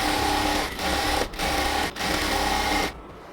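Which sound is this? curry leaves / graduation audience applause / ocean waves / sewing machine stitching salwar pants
sewing machine stitching salwar pants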